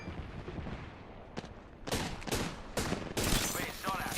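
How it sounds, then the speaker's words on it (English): Video game gunfight aboard a ship as enemies fire on the player: loud bursts of rapid gunfire in several volleys, growing denser toward the end, with a voice talking underneath. "They're shooting at me."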